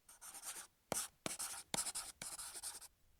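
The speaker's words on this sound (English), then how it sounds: "I used a sample called Pencil Write on Paper 1" Pencil scratching across paper in several quick bursts separated by short pauses, close and crisp, with sharp taps where the strokes begin.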